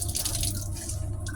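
Water drips and trickles steadily as grated potato is squeezed through a cloth over a bowl, a close, continuous wet patter with no talking.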